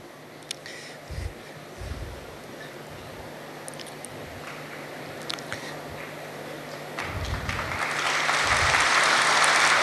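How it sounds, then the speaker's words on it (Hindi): A group at a yoga session starts with a few scattered claps, then builds into steady, louder group clapping toward the end, heard in a room with a faint background hum. "हाँ, तालियां बजाएं"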